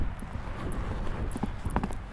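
A horse's hooves strike the ground at a canter, giving a rhythmic clip-clop of fairly close hoofbeats over a low outdoor background, with no speech.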